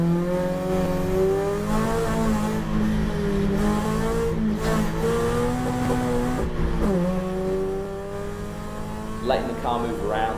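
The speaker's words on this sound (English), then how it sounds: "Letting the car move around, letting the car slide a little bit, getting wheel spin, is nothing to be afraid of." Race car on slick tyres in the rain during the final laps of the Nürburgring 24 Hours, its engine droning loud and steady close up as it slides with wheel spin, pitch rising and falling, a brief squeal near the end.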